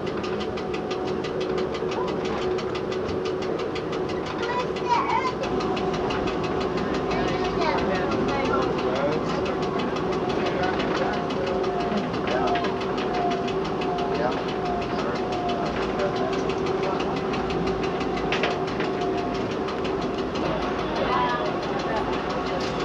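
A Pikes Peak cog railway train idles with a steady, low engine rumble and faint mechanical knocking, heard close by for a long stretch while people talk quietly in the background.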